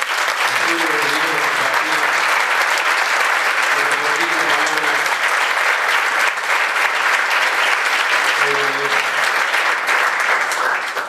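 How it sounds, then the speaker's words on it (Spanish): Audience applause at a Baptist pastors' retreat, a loud, sustained clapping from a large crowd that fills the whole span, with a voice speaking faintly underneath at times. "Yo le pediría un aplauso al Señor por ese privilegio que tenemos."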